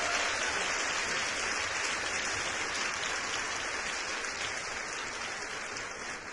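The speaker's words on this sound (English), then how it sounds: "I like those applause, Dr. Kevin." Sustained audience applause fills the room during a women's empowerment founders interview, dense steady clapping at moderate level that tapers slightly toward the end, with no voices over it.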